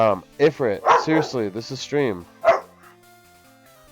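A pet dog barking at home during a live Pokemon game stream, a few short barks and yips mixed in with someone talking over them.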